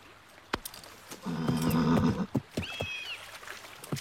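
A horse gives a loud, clear whinny of about a second, followed by a shorter, higher squeal, with scattered hoof clops and knocks around it outdoors.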